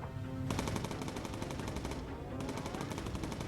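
Rapid gunfire in the bomber video game Bomber Crew comes in two fast, rattling bursts, the first longer and the second starting after a short pause, loud and close.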